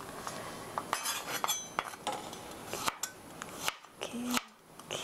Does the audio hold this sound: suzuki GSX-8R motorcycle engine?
no